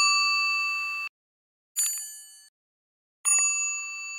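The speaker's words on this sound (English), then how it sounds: "kind of high-pitched bell-type sounds, like just ringing from really thin pieces of metal." Three bright, high-pitched metallic dings, each ringing out with a long shimmering decay, separated by brief silences.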